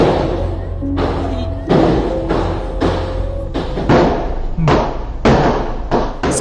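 A dashcam on the southbound North Luzon Expressway (NLEX), with vehicles stopped, picks up a run of loud gunshots. Roughly ten sharp bangs come in an irregular sequence, and each one echoes briefly before the next.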